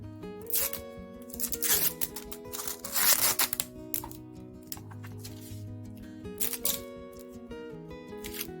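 Packing tape is pulled off its roll for a paper notebook-cover craft, giving several sharp, screechy strips of ripping at close range over soft background music.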